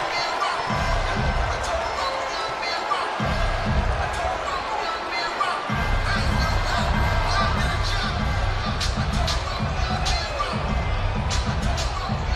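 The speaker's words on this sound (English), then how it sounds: "the crowd is loving it" A crowd at the Mayweather vs. Pacquiao boxing weigh-in in 2015 roars and cheers in waves, rumbling on steadily beneath a commentator's voice, with heavy low thumps pulsing through much of the noise.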